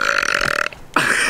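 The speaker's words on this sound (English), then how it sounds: "burp and fart in my vlogs" A loud, close burp rumbles for over half a second, breaks off briefly, then resumes with a second drawn-out belch, with no talk over it.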